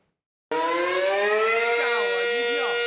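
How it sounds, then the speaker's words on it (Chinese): A civil defense air raid siren wails loudly along a Taiwanese street, starting abruptly and holding a steady, rising-and-falling tone near the listener. "台湾街路大声响的防空警报声"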